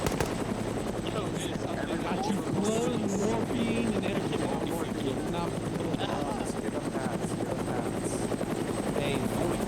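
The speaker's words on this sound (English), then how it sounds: "And the chopper's now waving off." A video game helicopter's rotor thrums steadily as the chopper waves off and flies away, continuous and fairly loud, with faint scattered gunfire and voices talking underneath.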